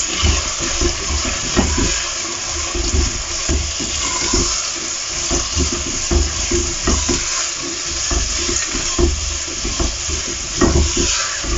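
Potatoes with ajwain roast in a pan, giving a continuous loud sizzle and frying hiss with frequent stirring scrapes and small crackles throughout, and no talk.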